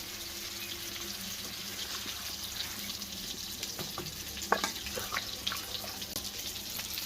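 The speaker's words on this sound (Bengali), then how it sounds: "এখন আমি একটু পানি দিয়ে দেবো।" Water is poured into a sizzling fish curry made with hilsa, the steady frying hiss mixing with splashing and a few sharp stirring knocks.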